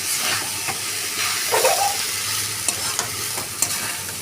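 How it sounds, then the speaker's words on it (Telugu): Coriander rice is stirred in a hot pan, giving a continuous close sizzle and hiss broken by scraping and light clicks from the spoon against the pan. "పెట్టుకున్న రైస్ వేసుకొని బాగా కలపాలి."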